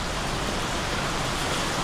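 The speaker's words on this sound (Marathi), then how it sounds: "पाऊस आलेला आहे" Steady monsoon rain pours down as a continuous, even hiss of broadband noise, with no voices and no break in intensity.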